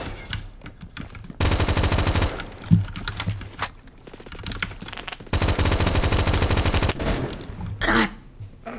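An M4A1 rifle in the video game Phantom Forces fires in two long, rapid automatic bursts, each roughly three seconds, with shorter shots and game noise in between.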